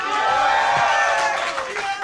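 A StarCraft 2 esports event crowd at a WCS European Premier League match roars in a dense, loud swell of cheering and shouting that fills the hall, with a few voices standing out above the mass.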